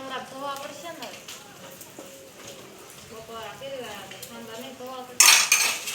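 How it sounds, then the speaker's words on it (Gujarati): Dishes, pots and utensils clatter and clink as a mother washes them at home, scattered knocks sitting under steady conversation, ending in a louder burst of clanging and running water. "આજે મારી મમ્મી ઠામડા ધોવા છે"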